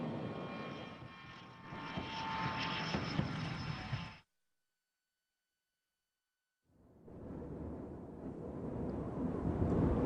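A loud, roaring military airplane engine rumbles by on landing with heavy broadband noise, cuts to silence for a couple of seconds, then the roar returns and builds.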